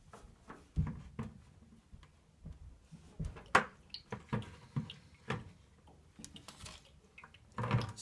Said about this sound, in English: So you could just use your bucket to catch some of the water.